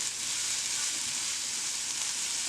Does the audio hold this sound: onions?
yes